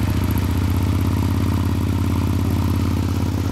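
A Suzuki GSX-R1000 motorcycle with a Yoshimura exhaust idling steadily with a deep, throbbing rumble, close and loud throughout with no other sounds.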